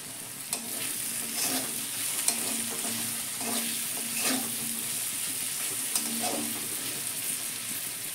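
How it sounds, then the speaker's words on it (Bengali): Spices fry in oil in a pan for vegetarian ghugni with peas, rajma and moong dal, a steady soft sizzle broken by repeated scraping stirs of a spoon against the pan. "মশলাগুলো ভাজা হয়ে গেছে"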